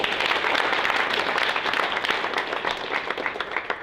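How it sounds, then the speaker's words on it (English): Steady round of applause from an audience at a leadership training session, many hands clapping densely and evenly for a few seconds, moderately loud and close, with no voices over it. "Give yourselves a round of applause."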